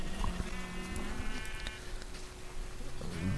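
Sheep in the Minecraft video game bleat a few times, short wavering calls over faint background noise and a low hum, with no voices.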